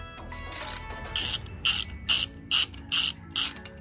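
A ratchet wrench loosens 12mm bolts on the head cover of a Raider150 motorcycle, clicking in seven short bursts with a steady rhythm, close and fairly loud.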